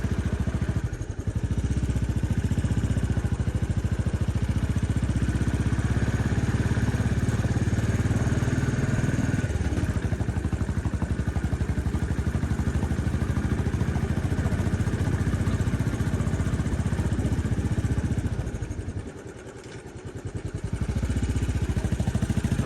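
A motorcycle riding uphill in gear on a mountain road toward Mussoorie, its engine droning steadily and loudly for the whole stretch with a brief dip in volume near the end.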